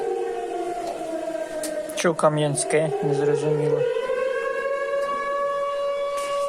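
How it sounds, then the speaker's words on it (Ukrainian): Civil defense air raid siren wailing over the city of Kamianske, a sustained rising and falling tone running through the whole stretch while someone talks over it. "В місті лунає повітряна тривога."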